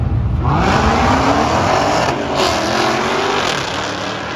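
Two Dodge Hellcats launch down a drag strip, a loud roaring engine surge with rising pitch and tire noise that stays intense throughout before the sound begins to pull away.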